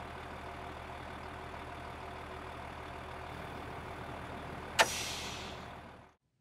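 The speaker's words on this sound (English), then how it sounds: "we just back ourselves all the way into our truck stop parking spot" Truck idling and creeping in reverse into a truck stop parking spot, a steady low engine rumble with a sharp hiss of the air brake near the end before the engine cuts off and falls silent.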